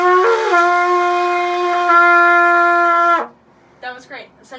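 A trumpet holds one steady, bright note for about three seconds after a slightly wavering start, then stops, followed by brief soft speech.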